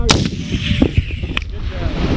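An M3E1 multi-purpose anti-armor weapon system firing on a range, a sharp loud blast at the start followed by further cracks and a rumbling tail outdoors.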